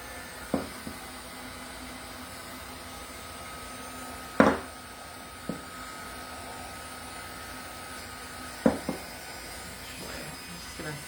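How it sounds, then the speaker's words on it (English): A small handheld dryer runs steadily to dry paint on a canvas gift bag, giving a continuous low airy whir with a few short knocks and clicks over it. "I'm going to turn my little dryer on real quick and try to get that paint dry"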